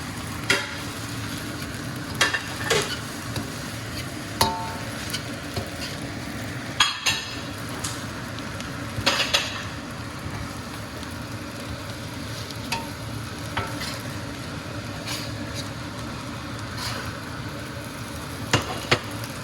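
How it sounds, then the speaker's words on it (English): Crab and Chinese sausage egg fried rice is stirred in a hot pan: a continuous sizzle broken by repeated scraping clinks of the utensil against the pan, with no voices. "And maybe stir it up a little bit then so it doesn't burn."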